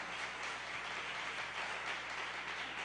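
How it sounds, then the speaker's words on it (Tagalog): A church congregation at a JMCIM preaching service claps loudly together. The applause is a dense, steady wash of hand claps that holds at an even level from start to finish, with no voices on top. "Lahat ng naniniwala dyan, pumalakpak ng malakas"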